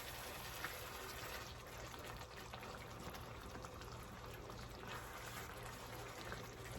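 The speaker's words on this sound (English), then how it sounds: "So we want to stir this around and get our cheese melted up in our mixture." Philly cheesesteak casserole mixture with melting cheese is stirred in a pan on the burner, a soft, continuous bubbling and wet churning, faint and steady with no voices.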